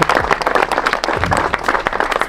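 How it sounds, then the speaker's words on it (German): A crowd at a turbo-kart race event in Wohlen applauds the Unsafe Bros team, loud close clapping from a group with a few sharper hand claps standing out. "Darum einen riesen Applaus"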